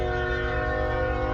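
A passing train sounds its horn in one sustained, loud, steady blast, held for the whole moment.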